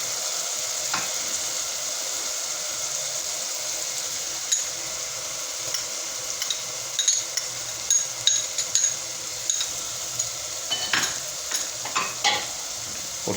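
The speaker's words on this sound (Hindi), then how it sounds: "और इसे कम से कम 2 से ढाई मिनट भूनेंगे।" Ginger garlic paste frying in a pan for egg masala, a steady soft sizzle throughout with occasional scraping stirs and light utensil clinks growing more frequent toward the end, close and without talk.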